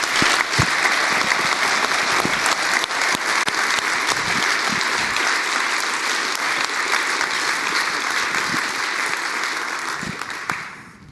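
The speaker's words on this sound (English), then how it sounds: "That's a special applause on top of that" Sustained, dense applause from a large conference crowd at the DENOG15 closing session, steady and loud throughout before fading out at the very end.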